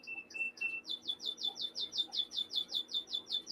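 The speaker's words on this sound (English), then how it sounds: "Birds are having a party." Zebra finches chirp in a quick, regular series of bright, high tweets with no talking. A few short calls come first, then a steady run of evenly spaced chirps.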